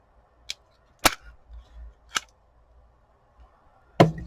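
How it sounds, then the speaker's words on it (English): A handheld stapler is pressed through paper tags backed with cheesecloth, giving four sharp, isolated clacks spaced about a second apart in a quiet room, the last one heavier and followed by a short rattle. "I will staple these together, because I think if I try and staple through the cheesecloth"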